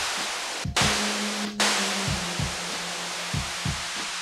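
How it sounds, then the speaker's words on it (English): A loud, full hiss of synthesized white noise cuts out briefly twice, while a low tone and soft thumping beats pulse underneath. "I've got a good full body white noise there."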